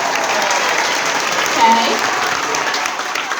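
An audience gives a sustained round of applause for first-year students standing up, a dense, even wash of clapping from many hands, and a voice briefly speaks over it.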